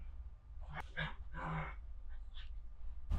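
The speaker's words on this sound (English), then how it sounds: "The dogs are fighting in the background." Dogs fighting in the background indoors: quiet bursts of yips, whimpers and snarling scuffles in short clusters, somewhat distant.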